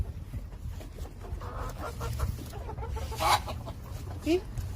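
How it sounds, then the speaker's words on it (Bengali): A large, heavy black-and-golden rainbow-coloured chicken on a rooftop gives a few short clucks, the sharpest near the end, over a busy background with people talking. "অনেক মুরগি আছে কিন্তু এই মুরগিটার চেহারা অন্যরকম"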